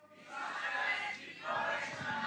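A congregation at a Saturday church worship service shouts a group yell together, a loud sustained roar that dips briefly midway and then surges back.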